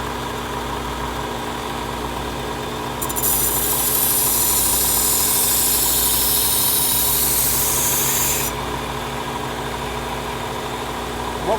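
A Work Sharp Ken Onion belt sharpener running at low RPM hums steadily, then a harsh, loud grinding rasp lasts about five seconds as a knife blade is reprofiled against the belt, before fading back to the motor's hum.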